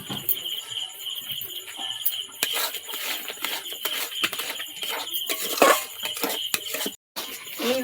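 A spatula stirring mango cooked with cardamom in a kadai, giving repeated light scrapes and metallic clinks at an irregular pace against a faint background hiss.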